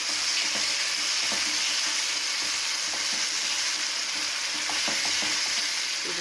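Paneer kulcha filling with garam masala roasts in a pan, giving a dense, steady hiss of sizzling with faint occasional stirring taps, close and even throughout.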